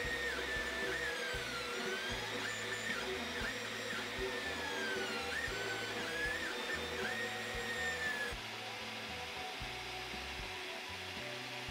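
A Tevo Tarantula Pro 3D printer fitted with TMC2208 stepper drivers runs steadily. It gives a soft mechanical hum with gliding motor tones that rise and fall continuously, with no voices.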